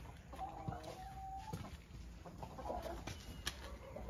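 A hen clucks in short, uneven bursts against a steady outdoor background, with faint farmyard noise around it.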